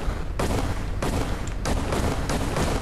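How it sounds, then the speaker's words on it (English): Gunfire in the video game Fallout 4 Far Harbor: several dense bursts of rapid shots in close succession, loud and continuous with short gaps between volleys. "Someone is shooting."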